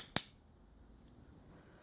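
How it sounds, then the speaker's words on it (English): A single crisp click from a softer-sounding dog training clicker, close and fairly bright, then near silence. "this softer sounding clicker is a better choice for you."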